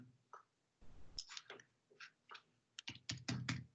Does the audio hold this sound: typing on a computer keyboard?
yes